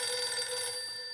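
A telephone rings inside a video game, a bright electronic trill with steady high tones that hold for about a second and fade slightly at the end, with no talking.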